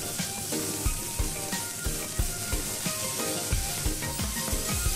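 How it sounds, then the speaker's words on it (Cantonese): Beef short ribs pan-fry over high heat, giving a continuous loud, close sizzle and hiss with small crackling pops throughout. "猛火煎咗1分鐘左右呢，就可以反噶啦。"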